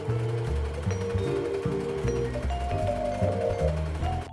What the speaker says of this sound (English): So I finished overlocking all the pieces